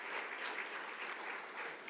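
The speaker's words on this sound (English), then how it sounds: "So maybe a round of applause for the Tuesday judges" An audience at a scientific workshop plenary session applauds poster judges, a steady, fairly distant patter of many hands clapping that continues throughout.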